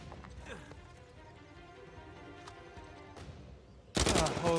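Gunfire in the video game Uncharted 4: A Thief's End: scattered sharp shots over a busy, clattering background, ending in a sudden loud, dense burst of fire.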